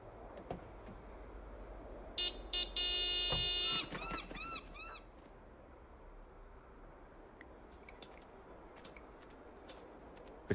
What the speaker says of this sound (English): Do me a favor and honk the horn.